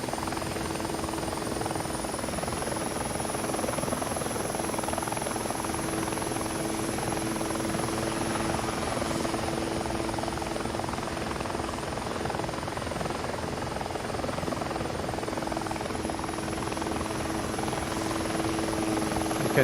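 A steady, loud engine drone and rotor-like hum from an aircraft lifting off in the X-Plane 12 flight simulator game, unchanging and continuous with a faint high whine above it.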